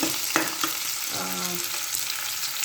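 Chopped onions and garlic sizzle in hot oil for a tempering, a close, bright frying hiss with a few quick stirring scrapes and clinks of a spoon against the pan.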